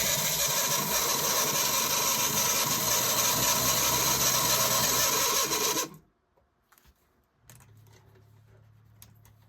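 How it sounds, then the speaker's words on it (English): Electric motor of an American Flyer toy train running with a steady, loud mechanical whir for about six seconds, then cutting off, leaving a faint low hum and a few small clicks. "And that motor is working great."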